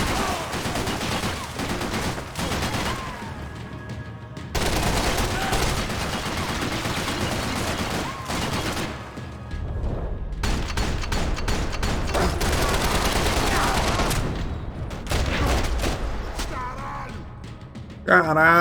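Video game gunfire in Max Payne 3 crackles in dense repeated bursts through most of the stretch, loud and close, with short pauses between volleys and a player talking over it.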